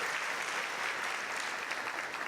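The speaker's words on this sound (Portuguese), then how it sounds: "Salve de palmas para Jesus, glória a Deus." A church congregation gives a brief round of applause, a steady wash of many hands clapping at moderate distance, fairly soft and continuous with no voices on top.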